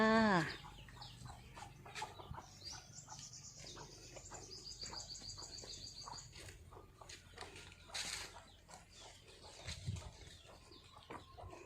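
Chickens cluck and birds chirp outdoors, a rooster-like call opening loudly, then softer scattered calls over a quiet rural background.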